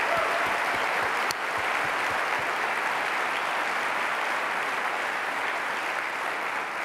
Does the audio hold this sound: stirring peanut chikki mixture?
no